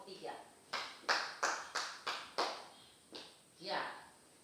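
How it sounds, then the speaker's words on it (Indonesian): A group of children applauds a classmate group in a classroom, several short bursts of clapping in an uneven rhythm, close and fairly loud, with no speech over it. "Berikan aplaus kepada kelompok 3."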